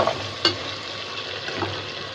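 Rice being stir-fried in a pot with whole garam masala, cardamom, tomato and green chili for chicken bhuna khichuri, a soft steady sizzle with a couple of faint stirring scrapes, close and without talk.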